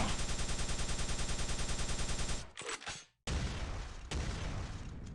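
The plasma gun in Quake 3 fires a fast, even stream of rhythmic pulses, loud and close, then cuts out briefly before a rushing burst and continued noisy firing, with no voice.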